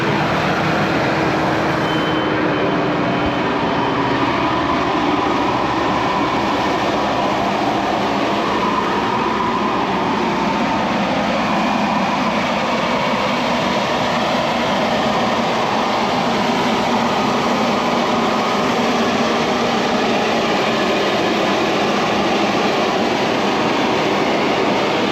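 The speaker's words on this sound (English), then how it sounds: "Engage the fan, which is PTO driven, and then engage some revs, that gets the fans going." A PTO-driven fan on a tractor-drawn seeder revving up in a farm field, heard as a loud, steady mechanical roar and whine with a rushing airflow that runs continuously for the whole stretch without pause.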